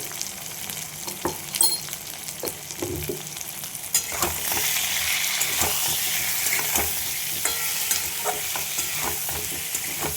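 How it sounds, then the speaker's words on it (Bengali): Sweet potato with chilli powder, cumin, coriander and salt sizzles in a pan while a utensil stirs and scrapes it. Close, irregular scraping knocks come first, then a steadier frying hiss takes over. "এইভাবে আমি একটু কষিয়ে নেব আলু মশলা সব কিছু।"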